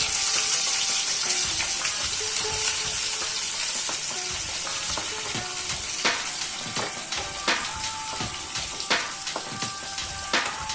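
Onions sizzle and crackle in a hot pan while being stirred, a steady close frying hiss with scattered clicks and scrapes from the spoon, no voices.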